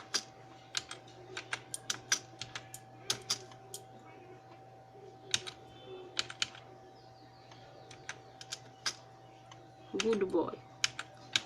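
Someone types a sentence into Notepad on a computer keyboard, and the keystrokes come as quick, crisp clicks in uneven bursts over a faint steady hum, with a short spoken phrase near the end.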